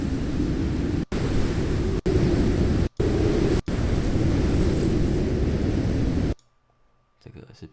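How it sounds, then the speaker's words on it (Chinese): A wind sound effect from the video game Carto blows as a steady, loud, airy rush, broken by several brief dropouts, then fades to near silence with faint, sparse sounds at the end. "你看它的素材其实是一个1分多钟的风声"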